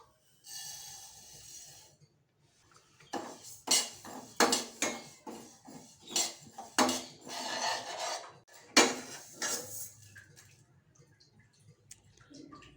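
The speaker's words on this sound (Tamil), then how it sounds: "இப்போ இதை எடுத்துகிட்டு பாசி பருப்பை நல்லா செவக்கிற அளவுக்கு வறுத்து எடுத்துக்கோங்க" Moong dal being dry-roasted in a pan, heard as a series of dry scraping and rattling strokes of a spatula against metal, irregular and close, with quiet gaps between, no speech.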